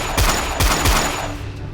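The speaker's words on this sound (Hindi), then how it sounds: "गाड़ी में से रंगा की गन निकाली और जोरों से उन पर गोलियां दागने लगा" Gunfire from a gangster's gun in a Hindi audio drama: three or four loud, close shots in quick succession, each a sharp crack with a booming low tail, fading into a reverberant decay with no talk.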